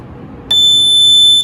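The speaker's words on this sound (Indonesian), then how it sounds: "harusnya buzzer LED merah itu bunyi." A buzzer on an FPGA and Arduino smart locker goes off after a wrong password is entered. Its steady, piercing electronic tone starts abruptly after a quiet moment and holds loud to the end.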